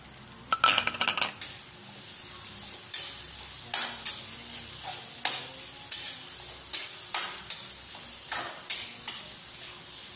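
Onion sizzles in a frying pan under a soft steady hiss, with repeated sharp clinks and scrapes as a utensil stirs it against the metal, close and regular.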